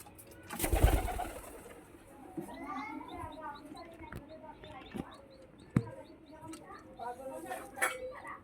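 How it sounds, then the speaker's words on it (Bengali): Old pet pigeons cooing, soft throaty coos repeating at an irregular pace nearby, with a few light knocks and clatters in between. "আমার পুরনো পায়রা"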